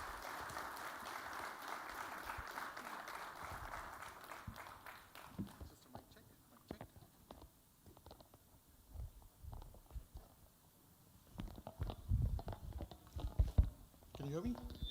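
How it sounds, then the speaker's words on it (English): An audience at the Ascend Mumbai 2026 event applauds to welcome a keynote speaker onto the stage, a dense burst of clapping that thins out after a few seconds, followed by scattered rustling and handling noise. "can I please have a huge round of applause to bring him on stage?"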